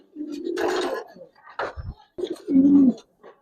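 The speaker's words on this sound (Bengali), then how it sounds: "ডাকটা একটু দেখাই দিই। ডাক অনেকেই পছন্দ করেন, কবুতর ডাকলে ভালো লাগে" A pigeon coos nearby in a few throaty, rolling bursts, the last one longest and strongest.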